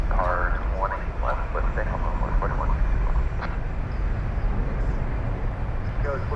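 Aircraft taxiing at DFW Airport, a steady distant jet engine drone and rumble heard from outdoors, with people talking over it.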